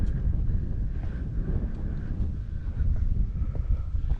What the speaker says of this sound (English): And the wind blows you backwards.